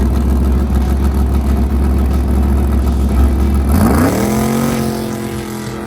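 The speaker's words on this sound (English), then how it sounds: "With the fuel tank full of methanol and the throttle stop pulled wide open, the Camaro went right down the track." A methanol-fueled Camaro drag car (Malibu) launches down a quarter-mile drag strip with the throttle stop pulled wide open, its loud, steady engine roar rising in pitch as it accelerates away, then fading slightly into the distance.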